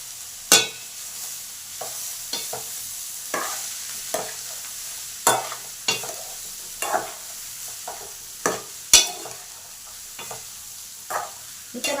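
A spoon stirs drained black-eyed peas in a hot pan, giving a light steady sizzle under a dozen or so sharp scraping clacks at an uneven rhythm, close and fairly quiet, with no talking.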